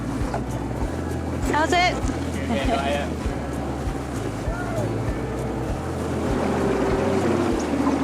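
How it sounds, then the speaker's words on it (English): A small dinghy motors along canals with a steady outboard engine drone, water wash and wind noise throughout, while people talk briefly over it. "we're going to see if we can just take the dinghy to the restaurant"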